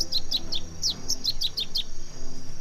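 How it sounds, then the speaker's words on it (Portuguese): Masked yellowthroat (pia-cobra) calling in a marsh: a close, clear series of about ten quick high chirped notes in short rhythmic bursts over soft wetland background, with no talking. "Numa área de banhado, quem aparece é o pia-cobra."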